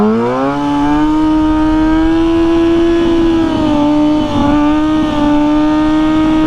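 A dirt bike engine that is running poorly, heard while riding as a loud, close, steady buzzing drone with a held pitch that dips slightly midway.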